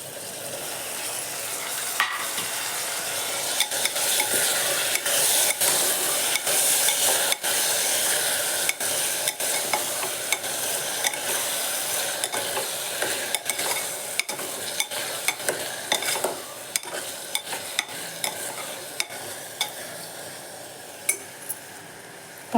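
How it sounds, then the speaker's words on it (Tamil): Tomatoes sauté with ginger, garlic and salt in a pan for a tomato rice dish, a loud steady sizzle broken by frequent sharp clicks and scrapes of a spoon stirring against the metal, with no voices. "உப்பு சேர்த்து இப்போ தக்காளி வணக்கிட்டு உங்கள்கிட்ட காட்டுறேன்"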